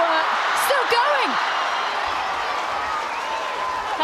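A women's rugby stadium crowd at an England versus Ireland Six Nations match roars and cheers steadily in the background while commentary plays over it, with a few whistle-like tones rising above the noise.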